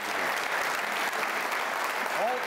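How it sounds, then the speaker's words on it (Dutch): A crowd applauds, a dense, even wash of clapping that keeps going for the whole stretch. "Dank en een groot applaus voor je"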